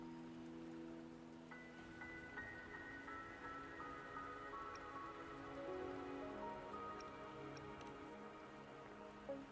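Steady rain falling on surfaces in the video game Wuthering Waves, a constant close patter of drops under soft sustained musical tones, with no talking.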